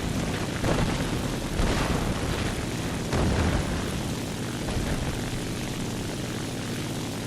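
Propeller aircraft engines in a video game air battle, a continuous loud droning roar with slight swells, no voices over it.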